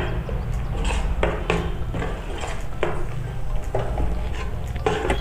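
Besan (gram flour) roasting in ghee in a pan for besan laddoos, with a spoon scraping and knocking against the metal in irregular clicks and taps over a steady low background hum.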